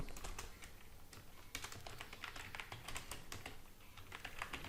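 Steady, rapid typing on a computer keyboard, close and quiet, with irregular clusters of key clicks running throughout without pauses for long.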